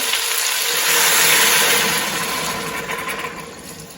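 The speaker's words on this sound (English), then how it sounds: "And then 4 cups of water." A steady, hissing rush of water pours into an Instant Pot for potato soup, swelling then gradually thinning out over a few seconds.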